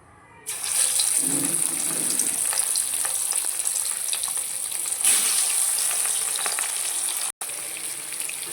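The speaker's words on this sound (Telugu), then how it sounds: "ఇప్పుడు బాగా ఆయిల్ హీట్ అయిందండి ఇప్పుడైతే చేప ముక్కలు వేసుకుంటున్నాను" Fish pieces dropped into well-heated oil in a pan burst into a loud, constant hiss that stays close and steady, with a brief cut near the end and no talk.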